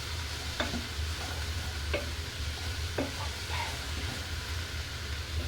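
Vegetables sautéing in oil for Tamil nombu kanji, a steady soft sizzle with a few sharp scrapes and clinks of a spoon stirring the pan, close up under a low background hum.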